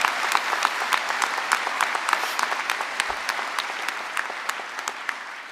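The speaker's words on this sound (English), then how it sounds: "so let's have a cheer for that" A graduation audience at a university ceremony in Belfast breaks into steady, sustained applause with scattered sharp claps, a large crowd filling the hall without speech.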